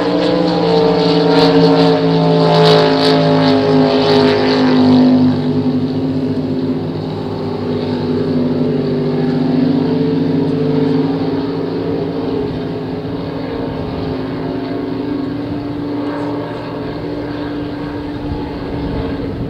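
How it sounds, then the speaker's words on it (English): A flatbottom racing boat engine at a world championship regatta roars loudly and steadily, a sustained harmonic drone that eases slightly after the first few seconds and holds on. "Down for Ty, he's really got that boat running good."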